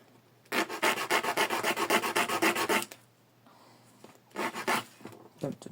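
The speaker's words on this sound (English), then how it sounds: "we're cleaning the edges on the sandpaper" Small wooden pulley block pieces for a model sailing ship are rubbed on sandpaper, a close, rhythmic rasping scrape in quick back-and-forth strokes, pausing and then resuming in a shorter burst.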